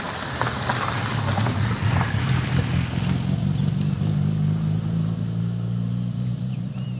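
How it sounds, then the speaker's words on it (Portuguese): A car passes nearby with a steady mid-pitched engine hum that swells and holds, continuous road noise throughout, no voices. "Passando um carro aí, né?"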